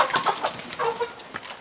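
Broiler chickens, large birds of about 4 kg, cluck in a farm house, with several overlapping clucks and calls close by in a busy, steady rhythm.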